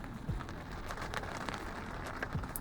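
Rain drums steadily on the fabric soft top of a Mini Cooper convertible, heard from inside the car as a dense, soft patter of droplets with occasional louder taps, quiet and continuous.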